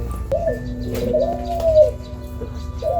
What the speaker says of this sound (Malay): Banyak burung.